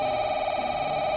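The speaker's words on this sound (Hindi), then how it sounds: "अरे किसका फोन?" A telephone rings in a steady, loud electronic tone that holds without a break through the short stretch.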